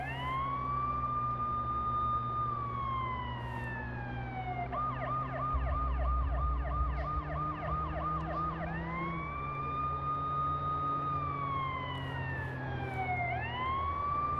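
An ambulance siren in the Watch Dogs video game wails loudly and continuously, rising and falling in long sweeps, switching briefly to a rapid yelp pattern midway before returning to the slow wail.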